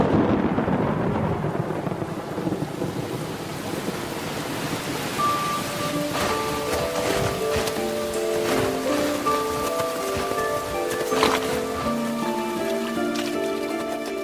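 Rain hisses steadily in the Brazilian wild under a low rumble of distant thunder, while sustained tones drift in midway and linger over the downpour.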